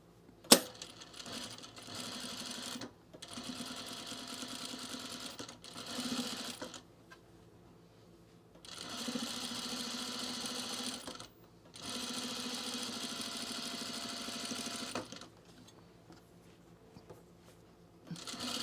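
A sewing machine stitching binding onto pajamas, running in several bursts of rapid whirring lasting a few seconds each, separated by short quiet pauses, close and alone.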